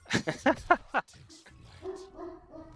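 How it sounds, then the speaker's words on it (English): Pet dogs indoors during a livestreamed gaming match give a quick run of excited barks, followed by a few thinner, whiny yips, moderately close and fairly quiet. "My dogs are cheering in the background for this, too."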